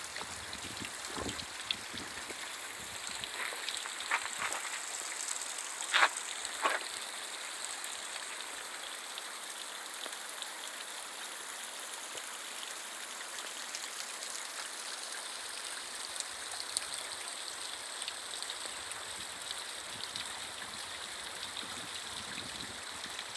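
Spring water pours out of rock on a mountainside below Castle Crags, a steady close rushing and splashing flow that stays even throughout, with a few brief sharper splashes and no talking.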